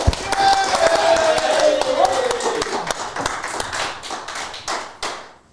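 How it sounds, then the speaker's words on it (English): Scattered applause and hand taps greet the guest arriving on a talk show set, with a brief tonal sweep early on before the clapping thins out and fades. "Rent a crowd. Let's hear it for last year's vice captain, Loz Brock."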